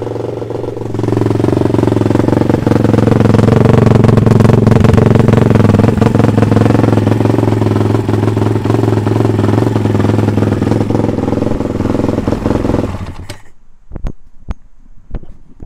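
A BBR MM12P perimeter-frame pit bike engine runs loud and close, a steady buzzing idle with slight rises in revs, before cutting off into a few faint clicks.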